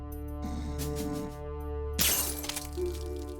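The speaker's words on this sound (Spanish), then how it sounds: "uno podía venir y dispararle a las botellas y hacer ruido" Bottles shatter under gunfire in the Metal Gear Solid 2 video game: a crisp glass break over a steady electronic hum, followed by a sharp, loud burst of breaking glass midway with tinkling debris after.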